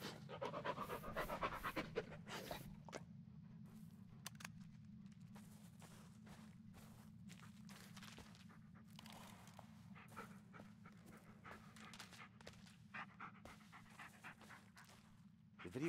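A dog pants rapidly and rhythmically in the Blair Witch video game, close and fairly quiet over a low steady hum, with faint footstep-like thuds.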